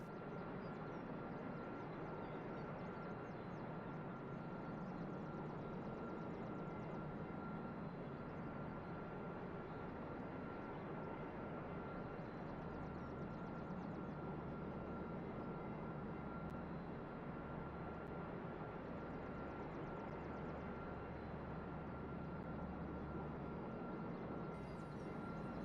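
A Harrier jet's engine in a combat flight-sim game drones as a steady, dense roar with a constant whine, unbroken and evenly loud throughout.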